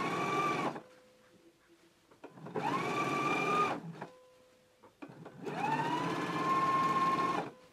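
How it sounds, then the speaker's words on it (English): Three bursts of a sewing machine stitching a sleeve hem close to a pressed edge, each run a few seconds long and close by, separated by brief quiet pauses. "go ahead and take it to the machine and we can stitch close to this inner pressed edge"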